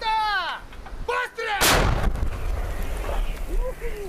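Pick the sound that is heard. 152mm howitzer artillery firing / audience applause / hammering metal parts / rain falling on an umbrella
152mm howitzer artillery firing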